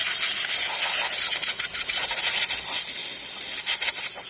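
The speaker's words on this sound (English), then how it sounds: "Because of the steam, it really does help eat through like bar oil and stuff like that." A steam cleaner blasts a chainsaw, cutting through bar oil, producing a steady loud hiss with rough, scrubbing texture throughout and no talking.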